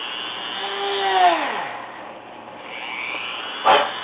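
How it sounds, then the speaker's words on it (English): A small drill revs up and winds down twice while boring holes in a carved wooden snowman ornament, a high whirring whine up close, with a short burst near the end. "I take a little drill, just drill a little hole."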